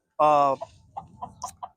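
Two hens of the same breed, half Drew Hernandez grays and half Ramos buttermilks, give one drawn-out squawk and then a run of short, soft clucks, close by.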